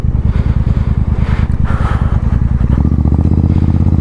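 A motorcycle rides slowly over a broken, partly repaired mountain road in Spiti, its engine thumping in a close, steady rhythm with clattering and scraping from the rough surface, rising in pitch toward the end.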